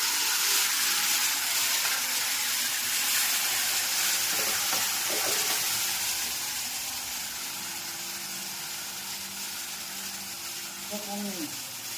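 Moong tempering with mustard seeds, cumin, fenugreek powder and curry leaves sizzles in hot oil, a loud steady frying hiss that slowly fades, with brief stirring sounds midway and a faint voice near the end.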